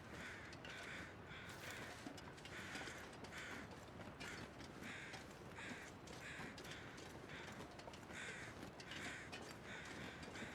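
Crows in a video game caw over and over in a steady rhythm, faint and distant, with one call roughly every half second against a constant background hiss and no talk.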